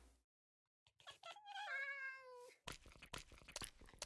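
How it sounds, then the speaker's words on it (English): A cat in the Minecraft video game meows in a drawn-out, rising and falling call near the middle, loud and alone, followed by a burst of brighter game noise. "we've got ourselves two cats"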